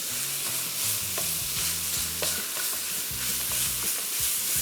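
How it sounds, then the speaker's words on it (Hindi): Coarse minced meat keema frying and being stirred in a pan for a Pakistani anda qeema: a steady, close sizzle that never lets up, with scraping stir strokes over it and no talking. "तो इसको फ्राई करते जाएंगे"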